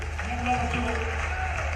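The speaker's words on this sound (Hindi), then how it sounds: "जोरदार ताली बजाओ उनके लिए भी।" An audience claps for tribal students at an award ceremony in Khandwa, a brief burst of applause mixed with crowd noise and some voices.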